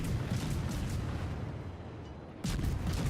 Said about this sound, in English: Now I launched these torps at this fuso